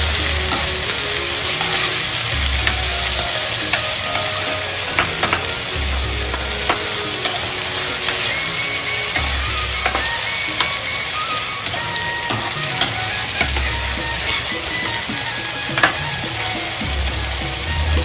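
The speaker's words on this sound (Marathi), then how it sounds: "मस्त पलीने तो सगळा मिश्रण आणि आपली कालवा एकत्र म्हणजे एकजीव करून घ्यायचा" A spatula stirs an oyster and onion mixture in a pan over a loud steady sizzle, with frequent sharp scraping clicks and periodic low thumps, close up and without speech.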